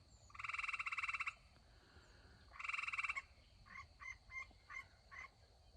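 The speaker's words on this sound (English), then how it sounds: "hope you can hear them tree frogs" Tree frogs call in a spring field, giving two long buzzy trilling bursts followed by a run of short chirping notes, clear and fairly near against a quiet background.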